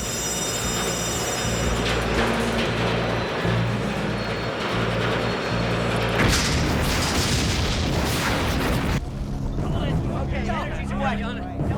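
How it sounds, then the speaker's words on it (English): A movie explosion inside a nuclear plant's containment building during a Y2K disaster thriller. It comes as deep, rumbling booms and a roaring surge mid-scene, mixed with tense dialogue and dramatic scoring. "We have an explosion inside the containment building."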